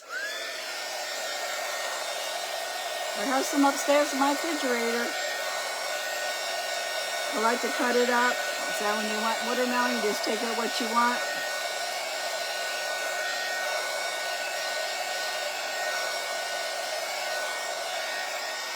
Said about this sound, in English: So let me give that a quick dry. Because it is paint.